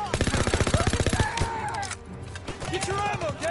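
Rapid machine-gun fire in WW2 battle footage: a close, loud burst of evenly spaced shots, followed by scattered shots and shouting voices.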